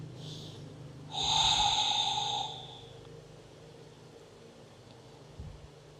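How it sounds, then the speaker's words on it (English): One long, deep breath during a yin yoga session, a faint intake and then a loud airy exhale through the nose or mouth lasting over a second, close and alone, followed by quiet. "Big inhales and deep exhales through the nose or through the mouth."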